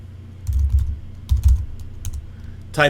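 Commands are typed on a computer keyboard at a CentOS 7 bootloader prompt: clusters of close, crisp keystrokes in short bursts, a few isolated taps between them, and a quick rattle of keys at the end.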